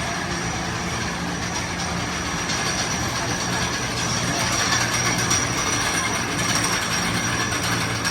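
A family roller coaster train at Six Flags Great America rolls along its track with a continuous loud rumble and clatter of wheels, steady throughout and with no clear voices.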